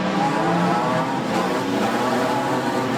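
Production sedan race cars at Wahgunyah Speedway, a dirt track, pulling away in a pack at night: a dense, steady roar of many engines revving hard, loud and continuous with no break.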